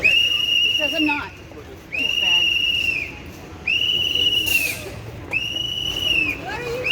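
A protester's whistle shrills in four long, loud blasts at roughly regular intervals outdoors, sounding over a background of voices and crowd chatter.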